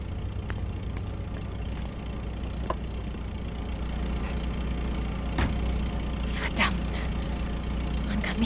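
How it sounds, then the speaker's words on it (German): A car engine starts and settles into a low, steady idle in the video game Beyond Two Souls. A voice talks over the rumble, and a few brief clicks and knocks are heard. "Jetzt ins Auto und lass den Motor an."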